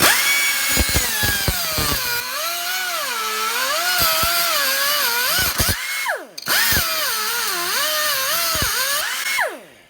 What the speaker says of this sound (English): I'm going to use this little cut-off wheel, which doesn't work great on aluminum